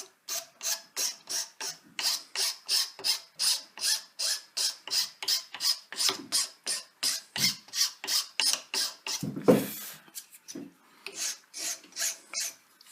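Rhythmic rasping strokes of hand files working a metal part for a milling vise speeder, steady back-and-forth passes repeating close up, with a brief heavier scrape midway and no talking.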